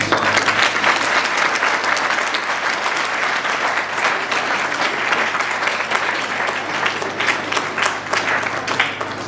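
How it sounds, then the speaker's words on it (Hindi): An audience at a hostel farewell program for departing priests and a sister claps steadily and loudly, a dense wash of applause that holds without a break from start to finish. "लोग सभी फादरों के लिए ताली बजाकर"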